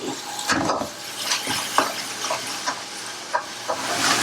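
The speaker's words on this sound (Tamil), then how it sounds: "பச்சை வாசம் போன அளவுக்கு வதங்கினா போதும் ரொம்ப வதக்கிட வேண்டாம்" Ingredients for amla rasam sautéing in a pan, with a steady low sizzle and scattered scrapes and clinks of a stirring utensil against the pan, fairly close and without talk.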